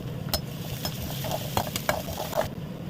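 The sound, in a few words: chili frying in hot oil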